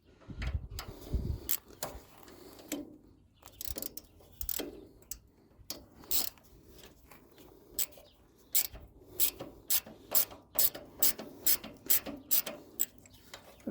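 A hand ratchet loosens 8mm bolts on the intake of an Onan Emerald 1 generator, giving close, quiet bursts of rapid clicking that repeat with short pauses between them, with faint handling noise.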